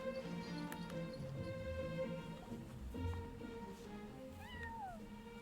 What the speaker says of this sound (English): Aw, that's a good kitty, Sir Bell